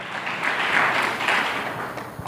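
A church congregation applauds at a Brazilian evangelical service, with sustained, loud, dense clapping that swells and fades over a couple of seconds.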